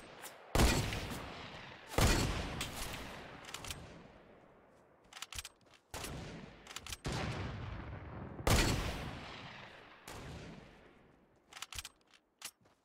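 Sniper rifle shots boom in a shootout video game, several loud, sharp reports spaced a second or two apart, each trailing into a long echoing decay, with a few smaller cracks in between.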